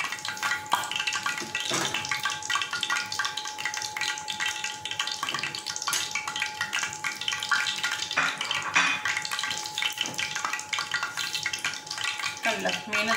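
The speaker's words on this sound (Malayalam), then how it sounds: "ഇപ്പം നമുക്ക് മാവിൽ മുക്കിയിട്ട് വറുത്തെടുക്കാം" Batter-dipped anchovies fry in hot oil with a continuous crackling sizzle and dense bubbling pops, held close and steady throughout.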